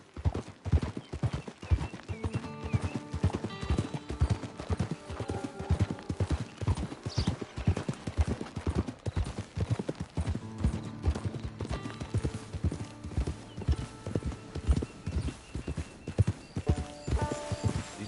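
Horses walk at a steady pace with their hooves clip-clopping in a constant rhythm throughout, close and clear, and occasional whinnies and creaks rise above the hoofbeats.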